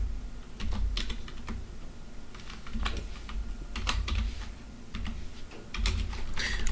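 Someone types C code on a computer keyboard in quick bursts of close, crisp key clicks separated by short pauses, with no talking.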